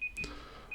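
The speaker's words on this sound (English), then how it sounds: "that's my alarm going off" An alarm beeps in quick short high-pitched tones, a few sharp beeps separated by brief gaps, fairly faint in the mix, with no voices.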